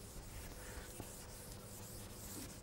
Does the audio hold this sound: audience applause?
no